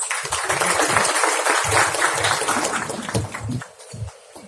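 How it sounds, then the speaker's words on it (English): Audience at a formal event with a Union Minister of Road Transport and Highways bursts into dense, sustained applause that slowly thins and fades toward the end. "Please welcome with a round of applause."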